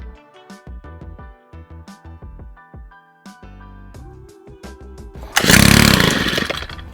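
A gas string weed trimmer on full choke is pull-started, with repeated short recoil pulls and sputters before the small two-stroke engine catches and roars loudly up close, then settles slightly.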